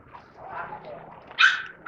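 A protection dog gives a few close, muffled yelps and whines, ending in one sharper, louder bark.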